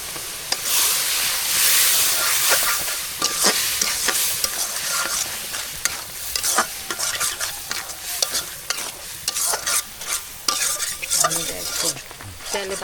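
Shrimp and dried fish fry in a pan with bottle gourd, a continuous close sizzle and hiss with frequent clinks and scrapes of stirring, no talk.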